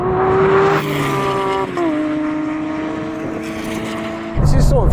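Lamborghini SVJ, McLaren 720 and Porsche 911 Turbo S in a drag race, a supercar engine held at high pitch before short, stepped upshifts with a brief drop at each change, loud and close, ending in a sharp rise.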